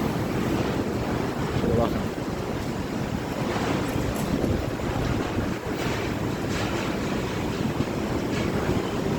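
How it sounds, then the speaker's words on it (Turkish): Strong storm wind sweeps across a cattle farm in a steady, heavy roar, with low buffeting rumble and gusting surges throughout. "inanılmaz bir fırtına var ama mallar hiç rahatlarını bozmuyor"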